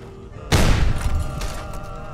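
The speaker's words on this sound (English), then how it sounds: "there's so many bullets flying everywhere" Gunfire in the post-apocalyptic shooter Fallout New Vegas: one sharp, loud shot cracks out after a quiet moment, followed by a trailing rattle of further shots and ricochets.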